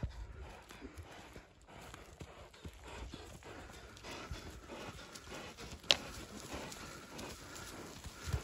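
A horse walking with steady clip-clopping hooves on hard ground, a continuous rhythmic patter at moderate distance amid outdoor background noise, with faint voices nearby.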